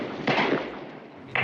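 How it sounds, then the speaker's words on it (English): Gunfire in a TV movie: two sharp, loud cracks set apart by about a second, each with a short ringing tail, standing alone without talk. "It sounded an awful lot like gunshots. It did sound like gunfire."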